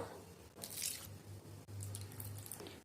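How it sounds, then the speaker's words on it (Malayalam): Milk being poured into a banana milkshake mix gives a soft, wet gurgling and splashing, close and fairly quiet, with a steady low hum underneath. "ഇനി ഇതിലേക്ക് നമ്മൾ പാല് ചേർത്ത് കൊടുക്കാം."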